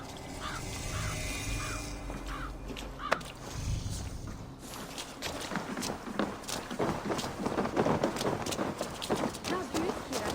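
Horses gallop in Assassin's Creed Valhalla, the rapid hoofbeats building from a quieter start into a loud, continuous clatter. Ambient game sound and a brief voice sit beneath the hooves.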